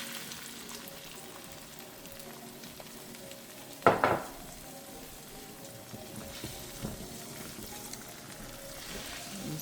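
Eggs for shrimp fried rice hit extra oil in a pan with a sharp burst of sizzle and a clatter, then settle into a quieter steady fry.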